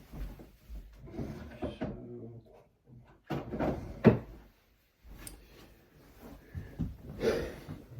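A drawer is pulled open and pushed shut indoors, with a wooden-sounding slide and knock amid soft handling rustle and breathing, moderately close.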